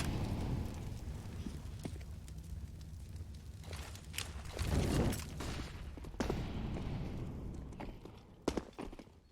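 Grenades and an incendiary going off in a Counter-Strike match on the Inferno map, a busy mix of thuds, crackling bursts and scattered impacts with a loud burst near the middle and sharp hits toward the end.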